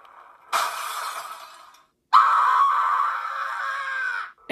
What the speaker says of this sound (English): And it's the sound of a kid screaming.